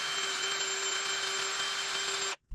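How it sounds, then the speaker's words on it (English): A drill bores into a red cedar birdhouse piece during woodturning work, giving a steady, loud whine that holds for about two seconds and then cuts off abruptly. "Now we need to drill again right down here for this piece"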